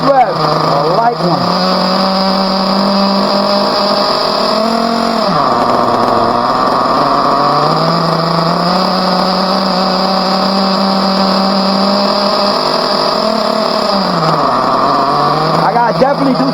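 A Team Associated RB engine in an RC car runs during break-in, droning loud and high-pitched with repeated rises and falls in revs, and a voice talks over it.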